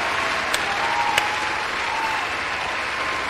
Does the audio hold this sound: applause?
yes